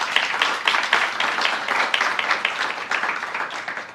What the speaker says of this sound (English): the applause, not prompted, are welcome